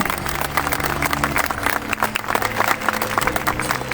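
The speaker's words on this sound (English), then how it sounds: "Can we have a huge round of applause for them?" Dense applause from a crowd at a school Republic Day celebration fills the whole stretch, steady and fairly loud, with a low hum underneath.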